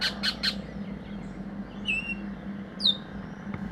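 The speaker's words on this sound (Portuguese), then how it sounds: "No dia seguinte, o primeiro som é dos pássaros." Birds call in the morning in a Guyana rainforest, with a few quick chirps early on, then sharp whistled squawks at intervals over a steady low hum, fairly close and clear, with no speech.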